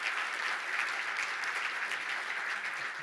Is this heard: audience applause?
yes